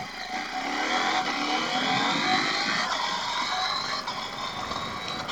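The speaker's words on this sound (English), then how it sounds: "I'll run through the gears, the quick shifter, so you can see what that feels like." A KTM 890 Adventure R motorcycle accelerating up through the gears with a quick shifter, engine tone repeatedly climbing with brief steps between shifts under steady wind rush.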